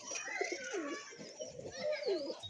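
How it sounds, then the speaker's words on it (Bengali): A pigeon coos in soft, rolling, repeated phrases close by, with faint voices in the background. "এই পায়রাটা এসেছে বন্ধুরা দেখতেই পাচ্ছ"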